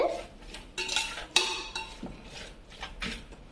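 A spoon scrapes and clinks against a pot while chicken biryani masala with coriander powder is stirred, scattered close metallic knocks and soft scraping with no talk.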